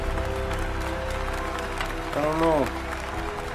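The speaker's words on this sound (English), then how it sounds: "Why are they cheering?" Crowd applause and cheering fill the background steadily throughout, with a person speaking briefly over it near the end.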